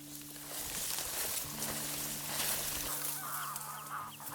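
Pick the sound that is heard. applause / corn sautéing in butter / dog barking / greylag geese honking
greylag geese honking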